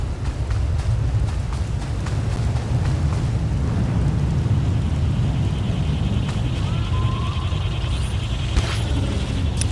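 A steady storm roars through a video game scene, a constant low rumble of rain and wind with faint crackles from lightning strikes near the end, and no voices.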